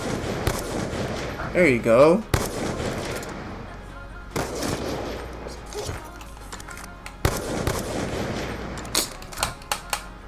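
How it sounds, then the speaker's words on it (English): Gunfire in Black Ops 2 crackles in sharp, scattered bursts with several distinct loud shots, while a person talks and reacts over the action. "I'm shooting too early."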